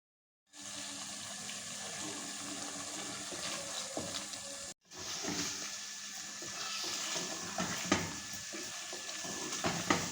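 Chicken masala sizzles in oil, a faint, continuous frying hiss with soft stirring scrapes, broken briefly by a short pause midway.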